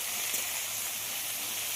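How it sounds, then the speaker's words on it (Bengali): Yardlong beans and potato fry in a wok, giving a faint, even hiss of sizzling oil that holds steady without interruption for a moment. "বরবটি আর আলু খুব ভালোভাবে ভেজে নিতে হবে।"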